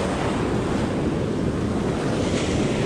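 Ocean waves wash up on a fishing beach in a constant roaring surf hiss, with heavy wind buffeting the microphone and no voices throughout.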